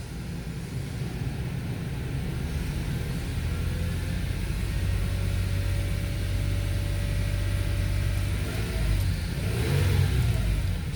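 Toyota Fortuner 2019 engine with automatic transmission, held in neutral and revved: a steady, loud mid-pitched drone that climbs and swells toward the end, close by and with no voices.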